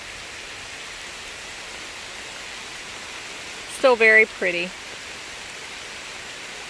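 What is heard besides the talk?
light rain pattering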